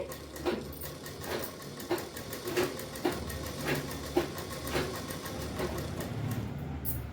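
A domestic sewing machine stitches cloth, slowing where the seam curves, its steady mechanical whir broken by regular thumping pulses about every half second, moderately loud and close with no voices.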